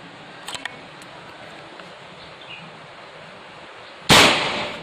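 A Mauser Black Mamba air rifle fires once, a sharp, loud crack near the end that decays quickly, after a quiet stretch with a few faint clicks.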